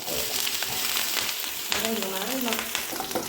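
Green chillies fry in hot oil with spluttering mustard seeds, a dense close crackling sizzle throughout, while someone talks over it in the second half.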